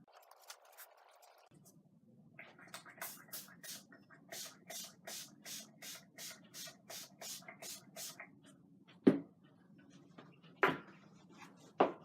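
Guitar cleaner sprayed in a quick run of about a dozen short, evenly spaced hisses, close and fairly quiet, after a can is shaken, with a few louder knocks or clatters at the end.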